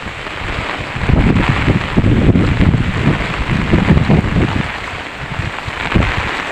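Heavy rain and strong storm wind roar outdoors by a house, a dense, loud, continuous rush with gusts buffeting close to the microphone and no talk.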